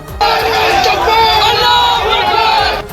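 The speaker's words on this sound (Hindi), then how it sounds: "बाद में उन लोगों ने पुलिस के खिलाफ नारे लगाने शुरू कर दिए।" A loud crowd chants and shouts slogans against police at a tense street protest near barricades in Uttarakhand, over the demolition of an illegal madrasa. Many voices blend into a sustained, continuous roar.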